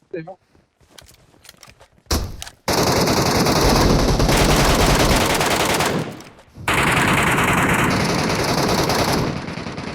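Automatic weapon fire in the mobile shooter PUBG Metro Royale roars in long sustained loud bursts after a few scattered shots, briefly pausing midway, with players talking over it.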